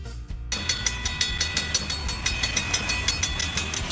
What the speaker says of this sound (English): Snowplow train.